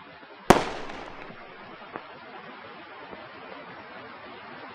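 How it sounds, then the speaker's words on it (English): A single sharp burst from an incendiary bomb dropped by a Japanese balloon in wartime, loud at first and trailing into a decaying rumble with a couple of faint later pops. "The first incendiary is dropped."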